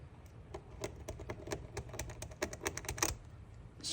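A small screwdriver scrapes crusty buildup off metal pins, giving a run of quick, light, irregular scratching ticks that keep going steadily and sit close and fairly quiet.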